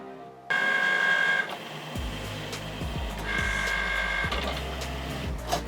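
A Cricut Mini cutting machine works through textured grey cardstock, starting with a loud whirring burst, then steady motor hum broken by repeated clicks and carriage movements, close up with no talking.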